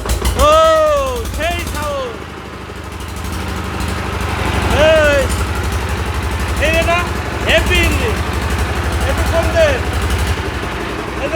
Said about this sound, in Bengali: এই ইঞ্জিনটা এখন স্টার্ট দেওয়া হবে দেখেন কত সুন্দর